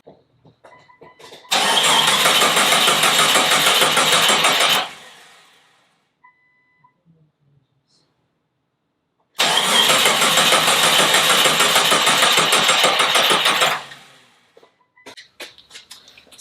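A spare 4.0L engine cranks and fires for about three seconds, cuts out, then after a silent pause starts again for roughly four seconds before stopping, loud and close, with faint clicks and handling noises in between.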